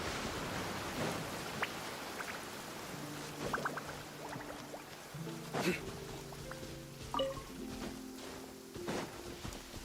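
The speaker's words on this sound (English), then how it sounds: "It's raining again." Steady, soft rain hiss falls in the video game Genshin Impact, running quietly throughout beneath gentle game music tones and occasional muffled voice sounds.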